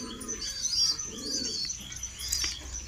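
Red-marked Khatan-type pigeons in Varanasi flap their wings in short bursts amid steady chirps and soft coos, close by and moderately loud.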